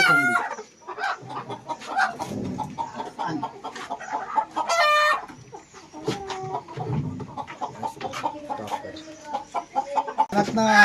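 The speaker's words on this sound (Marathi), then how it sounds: "अंडी देणारी कोंबडी." Free-range village hens that lay eggs clucking and cackling in a farmyard, with a rooster crowing over repeated close, loud calls throughout. Faint human voices are present in the background.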